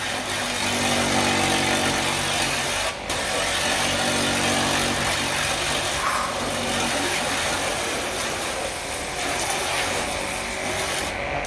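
A purple STR 400-bar high-pressure car-wash pump runs with a steady loud motor drone and hiss as it draws soapy solution to spray foam, the tone shifting slightly as it builds pressure.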